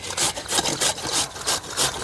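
Giant taro (mankochu) being grated by hand in a village kitchen: a steady run of rhythmic rasping strokes, about three or four a second, close and fairly loud, with no voices.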